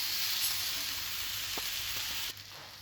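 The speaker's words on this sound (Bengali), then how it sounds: "এখন পাস্তাটা দিয়ে দিচ্ছি।" Pasta hits a pan of spiced sauce and gives off a steady hiss and sizzle, with a few faint scrapes, before the sizzle drops in level near the end.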